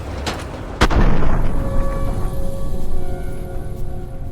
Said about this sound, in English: in Fallout 3, you can use VATS to throw grenades